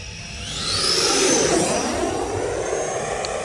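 A Horizon Hobby RC jet roars past in gusty wind, its turbine whine sweeping upward and swelling loud before holding a steady, slightly fading rush overhead.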